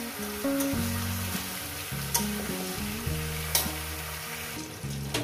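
Pumpkin frying in a pan for a Bengali Malabar spinach and rohu fish head chorchori: continuous close sizzling with repeated stirring and scraping of a spatula, plus a few sharp clinks against the pan.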